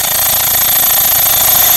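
Loud, steady mechanical pumping from an engine-driven York 210 AC pump used as a truck's onboard air compressor, a fast rhythmic chug under a high whine, running continuously and close by.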